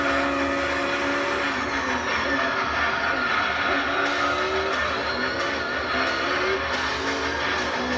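Race car engine in Gran Turismo 3 over 600 horsepower roaring at high speed, a steady loud drone with shifting pitch throughout and faint tire noise, no talk.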